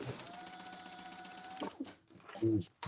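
A sewing machine top stitching gives a short, thin whirr for about a second and a half, then a few clicks, with a person talking over and after it.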